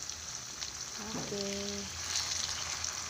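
Food frying in hot cooking oil gives a soft, steady sizzle close by, with a brief spoken word partway through, alone otherwise.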